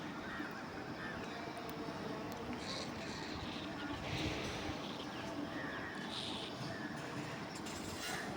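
Birds calling around the Ekambaranathar temple in Kanchipuram, honking goose-like cries rising in scattered bursts over a steady outdoor wash, with a voice faintly present beneath.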